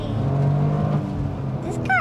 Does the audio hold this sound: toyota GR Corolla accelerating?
yes